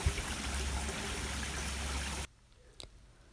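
Steady rushing spray of water from a PVC pipe shower over a pond filter, loud and close, running for about two seconds before cutting off abruptly to near quiet with a faint click.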